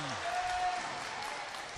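Spectators at a high school girls and boys volleyball match between Gloucester and Menchville applaud in a gym, a dense wash of steady clapping with scattered voices and faint cheers throughout.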